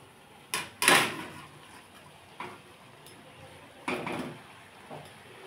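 A steamer plate holding bowls of beaten egg is lowered into a wok of boiling water in a home kitchen, making a couple of soft metallic knocks and scrapes, one fuller thump early and fainter bumps after, with quiet in between.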